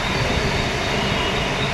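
Steady rumble of a train passing on the Western line near Parel station in Mumbai, a continuous loud rolling roar of wheels on rails with no talking.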